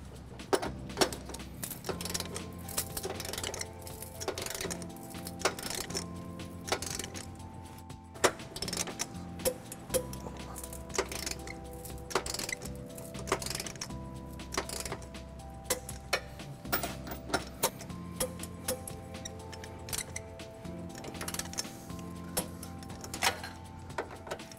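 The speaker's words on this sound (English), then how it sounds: "we're going to tighten and torque all of our bolts to the manufacturer's specification" Socket wrench with a 19 mm socket and 5-inch extension tightening trailer hitch bolts on a 2015 Infiniti QX60, with repeated sharp ratcheting clicks and metallic ticks coming in bursts, close and fairly clear, without talk.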